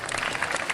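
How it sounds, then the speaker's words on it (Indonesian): An audience at a religious gathering breaks into brief, dense applause for an honored guest, an even burst of many hands clapping together. "Tepuk tangan untuk beliau."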